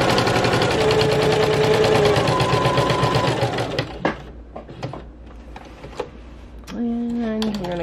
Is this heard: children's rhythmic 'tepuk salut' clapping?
no